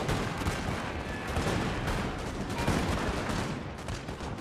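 Cannon and musket fire from a Napoleon: Total War battle, a dense, continuous roar of overlapping gunshots and booms that stays loud and busy throughout with no pauses.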